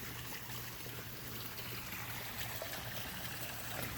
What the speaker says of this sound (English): Waterfall is complete.